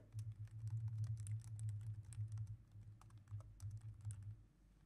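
Quick, light taps on a computer keyboard patter in a rapid uneven burst as a reference name is typed into spectral-library software, soft and close with a faint low hum underneath.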